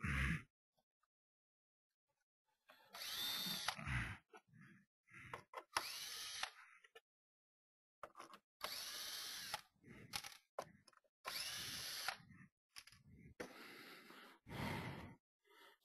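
A power drill whirs in short bursts, backing screws out of a wooden plaque, with several separate close runs broken by pauses and small handling noises.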